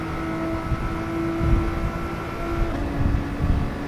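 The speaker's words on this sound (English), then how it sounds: "Listen to that engine in stereo." Steady race car engine drone from the GT Sport racing game, heard continuously at moderate loudness during an FIA Manufacturer's Series round, with a sustained tonal whine and slight swells as the car powers through a corner.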